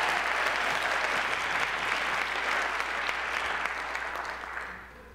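A theater audience at a circus arts show claps steadily in a dense, sustained wash of applause that holds loud throughout and only starts to thin at the very end.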